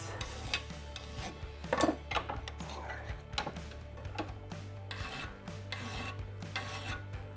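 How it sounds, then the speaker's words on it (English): Hand file rasping a radius into an Aermacchi motorcycle front hub, close and steady, repeated scraping strokes under a low hum, with occasional speech. "So I'm filing a radius"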